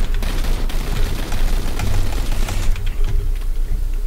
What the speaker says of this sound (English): that's going to look like sporadic gunfire, but I actually planned every single one of those bullets.